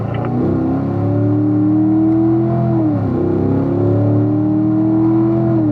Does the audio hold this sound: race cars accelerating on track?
yes